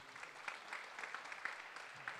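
Faint, distant applause from an audience at a devotional music concert: a thin, scattered patter of clapping that continues evenly for a couple of seconds.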